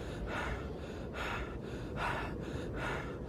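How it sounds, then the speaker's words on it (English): A game character breathes hard from exhaustion in ArcticBoy, a snowy interactive story, with repeated heavy gasping breaths about every second, loud and close over steady background noise. "him breathing hard is a clue that you're overexhausting yourself"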